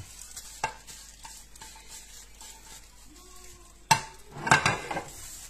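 A spoon mixes grated pizza mozzarella into dressed green broccoli in a bowl, with soft stirring, scraping and a few sharp clinks of utensil against the dish, close and moderate.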